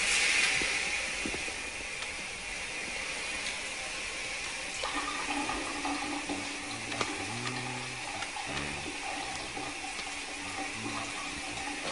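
Shower water running steadily, a soft continuous hiss and splatter at low level, with faint clinks and knocks from the bathroom partway through.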